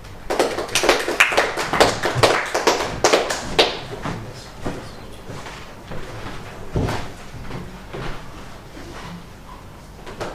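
An audience at a Toastmasters meeting gives scattered applause to welcome a speaker. The clapping is uneven and fairly close, strongest at first and thinning into sparse claps and a few thuds.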